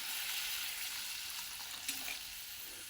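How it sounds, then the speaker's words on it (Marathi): Water poured into a pan of cooking sprouted moth beans (matki) makes a continuous hissing, splashing stream, steady and fairly quiet throughout, with no voices. "पाणी तुम्ही अंदाजानुसार टाकू शकता"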